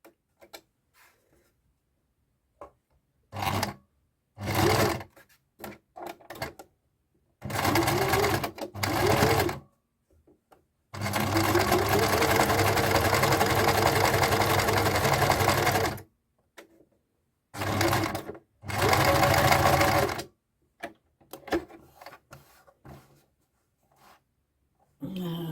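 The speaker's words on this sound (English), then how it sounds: "I am now going to sew each side of this little bit of material for the lining for the" A sewing machine stitches the sides of a small piece of fabric lining for a notions pouch, running in several bursts of rapid whirring stitches, one long continuous run, with quiet pauses and handling noises between them.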